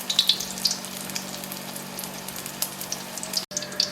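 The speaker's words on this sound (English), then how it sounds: "Once they're frying nicely, I'll add some more." Small pieces of Jagdwurst schnitzel fry in hot oil, giving a steady, soft crackle with scattered sharper pops and spits throughout.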